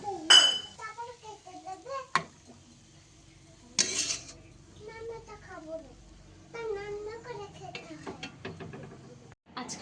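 Fried onions and green chillies in mustard oil are lifted out of a wok with sharp metal clinks and scrapes of a utensil against the pan, spaced irregularly, with a voice heard intermittently in between.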